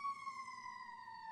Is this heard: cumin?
no